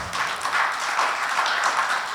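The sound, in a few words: audience applause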